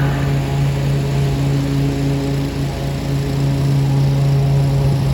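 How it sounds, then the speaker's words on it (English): Kubota Z231KH 48-inch zero-turn lawn mower engine running at a steady, loud, even drone close by, with a constant low hum and no speech. "The model Kubota that I have here is the Z231KH 48."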